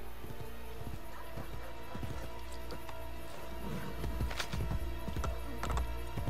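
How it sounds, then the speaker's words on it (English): Horse hooves clip-clop in Assassin's Creed Brotherhood, sharp hoofbeats in an uneven galloping rhythm over a steady bed of game music and ambience, growing busier and louder toward the end. "Horse!"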